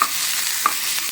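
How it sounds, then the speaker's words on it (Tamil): Carrots stirred and sautéed in a pan for a Tamil-style curd rice tempering, giving a steady soft sizzle with light spoon scrapes over about a second, close and unbroken by talk. "கேரட்டை கடைசியாக பார்த்திங்கன்னா போட்டு ஒரு வதக்கத்துக்கு எடுத்து அதில் மிக்ஸ் பண்ணிக்கலாம்"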